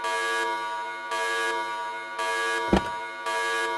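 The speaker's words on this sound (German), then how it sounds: "Alarm, Alarm, Alarm!" A prison escape alarm blares in repeated long buzzing horn blasts with short gaps between them, loud and steady, with a brief thump partway through.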